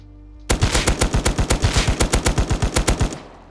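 Rapid automatic gunfire from a weapon in the video game Rust, a steady burst of about twenty evenly spaced loud shots lasting under three seconds, alone without talk.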